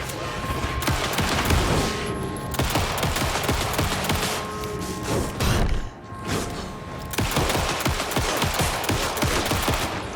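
Sustained gunfire in the Alan Wake 2 Lake House DLC: dense rapid shots and mechanical clatter run almost continuously and loud, with a brief lull partway through and no talking.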